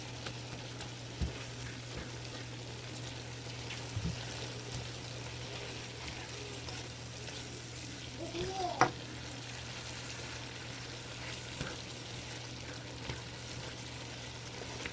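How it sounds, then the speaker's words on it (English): American-style goulash being stirred and sauteed in a pan: a faint, steady sizzle with occasional soft scrapes of a spoon over a low electrical hum, quiet and continuous. "I'm going to saute this"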